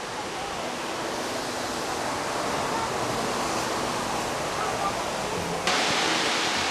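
Huangguoshu waterfall in Guizhou, China roars as a steady, dense rush of falling water, loud and continuous throughout with no other sounds.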